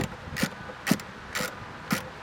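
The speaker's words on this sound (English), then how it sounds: "we're going to have one screw sitting right here that we want to remove" Screw being backed out of a dash side panel in a Nissan Kicks, four evenly spaced short ratcheting clicks about half a second apart, close and crisp with no talk.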